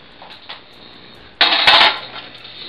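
A car headlight assembly is set into a home oven preheated to 275 for disassembly, giving a loud half-second burst of metallic rack clatter and knocking midway, preceded by faint handling taps and followed by a low steady hum, with no talking.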